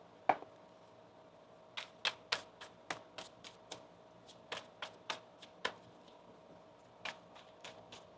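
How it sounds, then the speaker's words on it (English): Tarot cards being shuffled by hand, giving a string of crisp, close snapping riffles and taps at irregular intervals over a faint steady background hum. "One more shuffle now."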